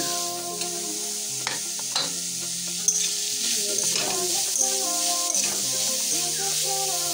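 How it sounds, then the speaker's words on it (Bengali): Grated carrots fry in ghee in a wok for carrot payesh, a continuous loud sizzle broken by the scrape and clatter of stirring, with background music playing throughout. "গাজরগুলো আমি গ্রেট করে নিয়েছি, এবার ভেজে নিব।"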